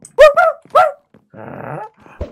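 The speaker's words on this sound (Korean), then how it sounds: "흰둥아, 물어." A cartoon dog from a Crayon Shin-chan episode gives two sharp loud yelping barks, then a rough sustained growl, with a short snap at the end.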